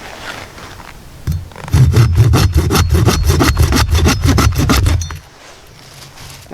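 A bushcraft machete with modified, sharpened saw teeth rasps through wood in about a dozen quick, even back-and-forth strokes, close and loud, followed by a quiet pause.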